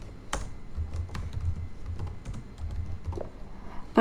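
Typing on a computer keyboard, a quick run of close, crisp key clicks in an uneven rhythm, with one heavier thump at the end and no talk.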